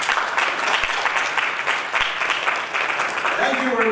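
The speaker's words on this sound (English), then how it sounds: "can you give a great applause to the fabulous audience you have?" Audience members at a conference on software quality assurance clap loudly and continuously, a thick wash of applause that dips briefly midway, with a faint voice emerging near the end.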